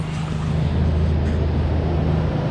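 A 2003 Ford Explorer with 205,000 miles idles after a spark plug replacement, giving a steady, even low engine hum heard close up with no talking.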